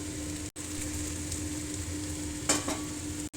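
Potatoes and squeezed soybean chunks sauté in a pan with a steady, moderate sizzle, a spatula scrape near the middle, and short breaks where the sound cuts out.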